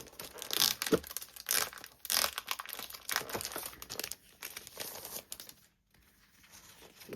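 A pack of 6x6 Stampin' Up! designer series paper being unwrapped and handled, loud close crinkling and crackling of wrapping in irregular bursts, with a brief quiet pause near the end, no speech.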